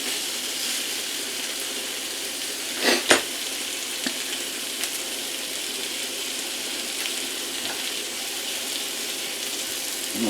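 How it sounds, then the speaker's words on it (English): Pork chops fry in a pan with a continuous bright sizzle, broken by a couple of sharp clatters from the pan about a third of the way through. "Those pork chops are starting to fry up."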